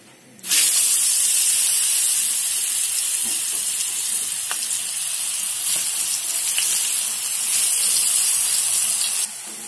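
Seasoned brinjal (eggplant) slices, coated in coriander powder, salt and turmeric, fry in a pan with a loud, steady sizzle that bursts in abruptly and holds for about nine seconds with no talking.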